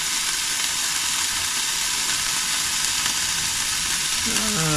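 Chili con carne mix fries steadily in a hot pan, a dense continuous sizzle that holds throughout, with a brief low voice murmuring near the end.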